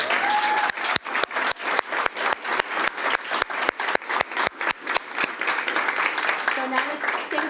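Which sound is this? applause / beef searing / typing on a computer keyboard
applause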